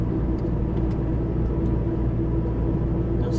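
A truck with 31,000 km, on the BR-163 highway in fog, makes an unusual noise: a constant heavy cab rumble and engine drone, loud and unbroken, with faint rattles on top.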